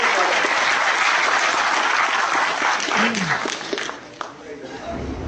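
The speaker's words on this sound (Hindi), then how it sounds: "मैं सबसे अनुरोध करूंगा कि जोरदार तालियों से" Loud, sustained applause from a crowd at a book event fills the clip, thinning toward the end as a voice begins to come through.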